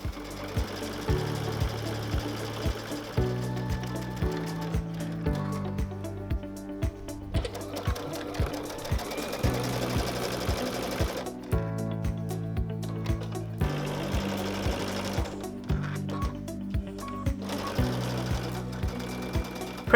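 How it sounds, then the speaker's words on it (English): A sewing machine stitches wedge-shaped crazy-patchwork pieces onto a quilt block, running in repeated bursts with brief pauses, steady and close, over a quiet background of music. "Repeat the process to sew some wedge-shaped pieces onto the next block"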